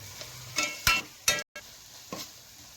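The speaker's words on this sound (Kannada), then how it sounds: "ಜಿಂಜರ್ ಗಾರ್ಲಿಕ್ ಪೇಸ್ಟ್ ಹಾಕೊಂಡು ನಾನು ಸ್ವಲ್ಪ ಫ್ರೈ ಮಾಡ್ತಾ ಇದ್ದೀನಿ" Ginger garlic paste frying in a pan for mutton methi kheema, with a steady low sizzle broken by several sharp scraping stirs of a spoon against the pan, close up, and no talking.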